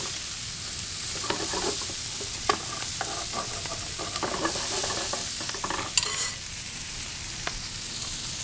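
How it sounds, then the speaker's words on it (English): Shallots fry in bacon fat and olive oil in a pan, giving a soft continuous sizzle broken by the scrape and clatter of stirring, with no voices. "You can start to really smell the shallots getting toasted off in this bacon fat and olive oil."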